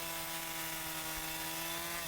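A chainsaw cuts into a log for a side table, its engine droning loud and steady at close range with a constant tonal whine and the rough grind of the chain through wood.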